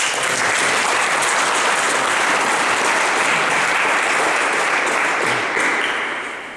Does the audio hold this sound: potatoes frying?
no